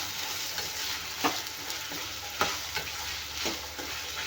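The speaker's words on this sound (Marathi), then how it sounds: "आता आपण त्याच्यामध्ये घालूया गवारीच्या शेंगा आणि ते मिक्स करून घेऊया" Cluster beans tossed into hot oil with golden-browned onions, giving a steady close sizzle broken by a few sharp scraping stirs of the spatula against the pan.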